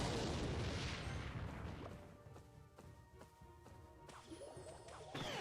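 A Rocket spell blasts in Clash Royale, a loud booming crash that trails off into scattered impacts and game noise before another thump near the end.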